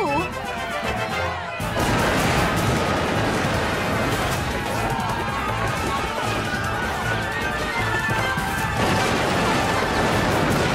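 In an animated battle at the North Bridge, musket fire bursts out in loud, dense volleys mixed with crashes and booms that build into a continuous din, with voices shouting over the fighting.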